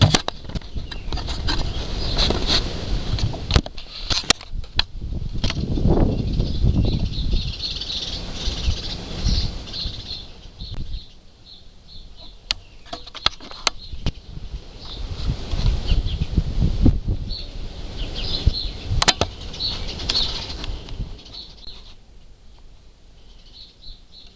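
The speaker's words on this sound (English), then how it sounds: "As you can hear, there's birds in the background." Wild birds chirp in short, high, repeated calls in the background outdoors, scattered over steady rustling and occasional sharp clicks and knocks nearby.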